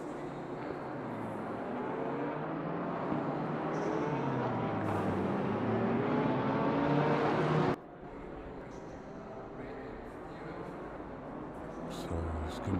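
BMW GT3 race cars at Misano in the Assetto Corsa Competizione racing sim, a steady engine drone with rising and falling pitch from several cars, cutting off abruptly partway before a quieter stretch of running engines.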